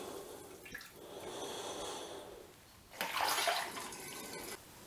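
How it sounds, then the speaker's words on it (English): Strained elderflower and strawberry wine liquid pours through a sieve into a 5-litre demijohn, giving a steady close watery trickle with a louder gush of splashing partway through. "we're straining the liquid into a 5-litre demijohn"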